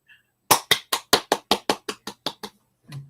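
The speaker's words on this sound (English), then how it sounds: "I'll give you a clap." One person claps alone during an online meeting, about a dozen sharp, evenly spaced claps in quick succession, close and crisp against silence, followed by a faint thump.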